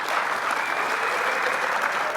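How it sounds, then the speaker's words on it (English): A conference audience at an X Games women's forum applauds the panelists, a steady wash of many hands clapping throughout, moderately loud and without talk. "Let's go ahead and give these ladies a big round of applause."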